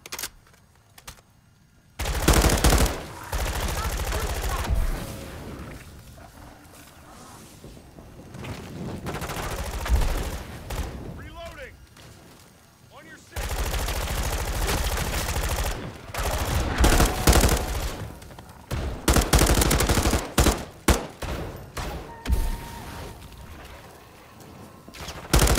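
Loud, sustained automatic gunfire in the video game Call of Duty Zombies, with dense rapid bursts and brief lulls throughout, with no talking.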